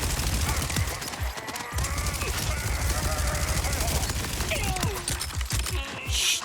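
Automated turrets firing in the shooter game Borderlands 4: dense, continuous rapid gunfire with scattered impacts and booms, loud and busy throughout, with a voice briefly under the din.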